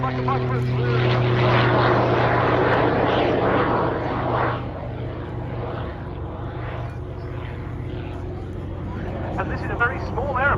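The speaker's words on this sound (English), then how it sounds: "And this is a very small aeroplane." A small propeller aeroplane flies at the RAF Cosford airshow, its steady engine drone loud at first and then easing off, with a voice talking over it throughout.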